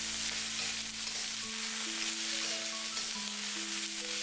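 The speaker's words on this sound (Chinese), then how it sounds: "就像视频中这样提前用油炒一炒，这样可以激发出苦瓜的鲜香味" Bitter melon stir-frying in hot oil, a steady broadband sizzle with faint scraping from stirring, close and continuous, with a background tone running underneath.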